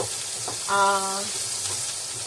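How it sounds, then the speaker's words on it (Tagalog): Onions sauté in a hot pan, a soft steady sizzle with a short stirring scrape partway through, heard up close. "Ito na, magigisa na tayo. Ito yung sibuyas."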